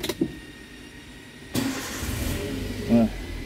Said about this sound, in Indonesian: Coba kita nyalakan dulu mobilnya.